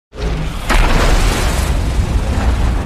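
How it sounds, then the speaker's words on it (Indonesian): A missile explosion under a bridge: a loud, deep boom bursts out suddenly, then rolls on as a sustained roaring rumble that fills the whole clip. "membiarkan rudal meledak menyebabkan lubang bawah jembatan Gotham"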